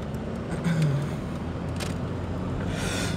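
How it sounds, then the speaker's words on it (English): Cars pass in city street traffic along River Street, a steady close roadway rumble with a brief engine swell, heard from inside or beside a vehicle. "All these fucking cars,"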